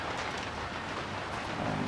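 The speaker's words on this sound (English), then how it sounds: "the sound of the rain on the roof" Steady rain drums on a roof in a continuous, even hiss with dense patter, close and moderately loud, with no voices over it.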